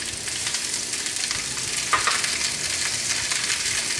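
Garlic and red pepper flakes sizzle steadily in hot oil, a dense, even crackle held close throughout with a brief brighter flare partway through.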